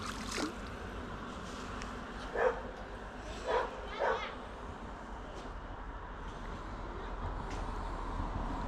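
A dog gives a few faint, scattered barks at a distance over a steady low background noise.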